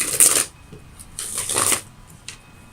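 Tarot cards shuffled in two quick riffling bursts with a brief softer flick afterward, close and crisp with no talking.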